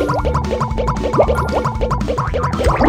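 Bubbles in liquid popping and gurgling in a quick, uneven stream of close bubbly blips over a steady tonal music bed, with no talk.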